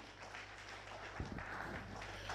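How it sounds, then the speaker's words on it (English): An audience claps together at a religious graduation ceremony, a steady, dense patter of applause that stays even and fairly faint over a low background hum, with no clear voices. "Clap for Jesus."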